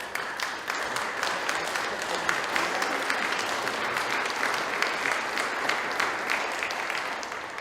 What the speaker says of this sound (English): and that's applause for them